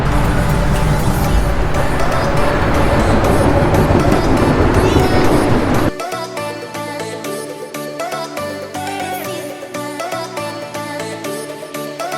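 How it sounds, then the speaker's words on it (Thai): A Chicago elevated train arrives in a loud, broad rumbling roar lasting about six seconds before the sound abruptly cuts away. "ได้ยินเสียงรถไฟแล้วสงสัยรถไฟมาแล้ว"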